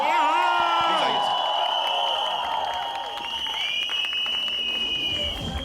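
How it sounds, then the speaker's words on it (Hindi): Loud audience applause with cheering and whoops for actor Piyush Mishra at the Rahu Ketu film trailer launch, steady for several seconds and mixed with sustained musical tones, easing slightly midway. "पीयूष मिश्रा साहब के लिए जोरदार तालियां"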